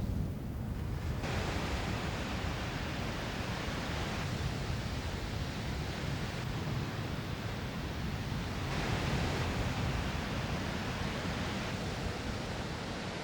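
Heavy surf rolls steadily onto Tangalle Beach in Sri Lanka as the monsoon ends, a dense, continuous roar of breaking waves with no voices.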